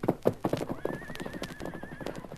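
Silver the horse whinnies loudly with a long, wavering neigh while hooves clop in a steady rhythm close by, in a Western setting.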